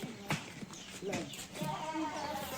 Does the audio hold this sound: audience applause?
no